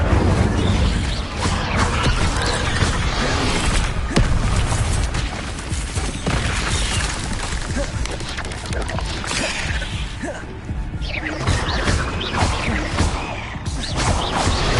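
Fiery Incendio spell blasts in Hogwarts Legacy, a sustained roaring mix of booms, crashes and whooshing bursts from a magical fight, loud and continuous throughout.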